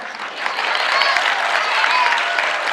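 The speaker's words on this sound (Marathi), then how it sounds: "मुलीच टाळ्या वाजायला लागल्या" Girls in an audience clap during a village sarpanch's talk, giving a loud, steady wash of applause that lasts throughout.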